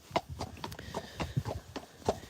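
Friesian horse hooves clip-clop at a walk around a field, a steady, close rhythm of footfalls under faint background noise.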